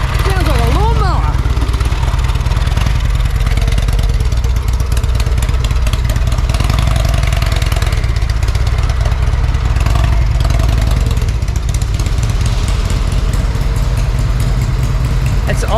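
A loud, rough old Harley-Davidson motorcycle engine idles steadily throughout, its low lawnmower-like chugging rumble dominant, with voices talking over it now and then.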